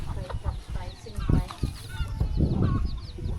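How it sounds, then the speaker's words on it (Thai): Chickens cluck in a remote forest village in Laos, short irregular calls over steady outdoor noise and some nearby movement. "ไก่ก็มากิน"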